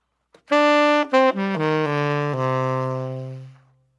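A descending minor 9 chord lick, the original phrase, played as clear sustained notes stepping downward one after another, ringing out and fading alone with no talking.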